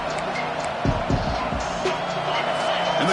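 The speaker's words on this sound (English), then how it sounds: "And the crowd coming to life here" Crowd noise rising in a college football stadium during a Penn State versus Oklahoma game, a broad roar with some sharp thuds and a commentator talking over it.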